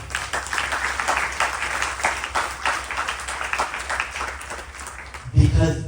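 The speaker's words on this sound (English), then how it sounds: "Clap for all of them." An audience at a Ganesh Chaturthi Utsav celebration claps for the volunteers and performers, a moderate, sustained patter of many hands that ends abruptly as a low thump and new sound cut in.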